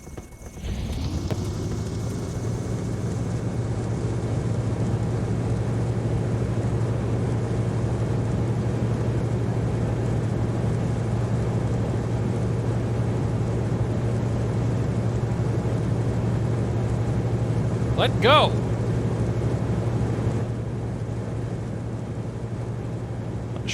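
Cessna 182T Skylane (Carenado CT182T, G1000) piston engine in X-Plane 11 sets a loud, steady drone right after startup. It holds constant for the whole stretch, with a brief spoken word near the start.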